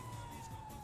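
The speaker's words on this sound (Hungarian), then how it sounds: "Az mi? Mentő? Nem tudom. Mentő, hát?" Ambulance siren in GTA V, a steady faint electronic wail heard at a distance over a low vehicle and ambient rumble, no speech.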